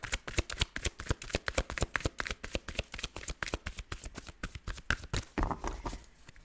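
Tarot cards are shuffled by hand in a rapid, crisp riffling patter that runs steadily for several seconds, close and fairly quiet, with no voices.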